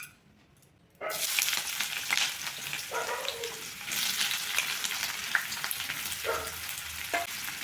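Onions go into hot mustard oil after a brief silence and start a loud, steady frying sizzle that carries on with occasional stirring scrapes.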